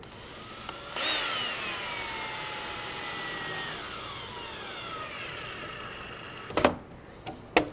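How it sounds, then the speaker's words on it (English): A power driver backs a screw out of a wooden joint on a high deck chair, whirring in one sustained falling-pitch run, then stopping before a few sharp knocks of handling at the end. "Back this screw off."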